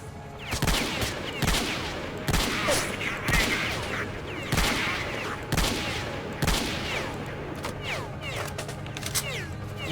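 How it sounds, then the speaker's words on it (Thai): Soldiers in the video game S.T.A.L.K.E.R. Shadow of Chornobyl Enhanced Edition exchange gunfire: repeated sharp shots and short bursts ring out loud over several seconds, echoing between volleys. "งสู้ทหารครับพอยิงส"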